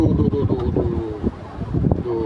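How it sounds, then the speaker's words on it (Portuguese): Wind buffets a camera's built-in microphone outdoors by the sea, with low rumbling gusts and faint traffic and surf blending into a constant murky roar; tonal hums drift through. "talvez vão ouvir o barulho do vento, etc. Inclusive dos carros que estão a passar e o mar que está a bater ali."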